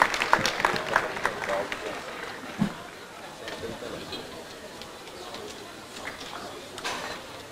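Audience at a university pharmacy faculty event applauding as a dean is invited to the stage, a dense clapping burst that fades into a softer, scattered patter with some background murmur.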